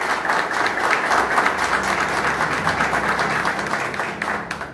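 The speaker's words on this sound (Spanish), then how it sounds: "Le damos la bienvenida con un fuerte aplauso" Audience applause at a political party press conference on the 2023 elections, a steady dense wash of clapping that fills the whole stretch at close range with no talk over it.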